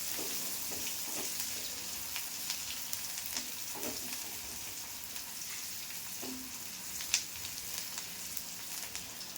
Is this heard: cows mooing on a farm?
no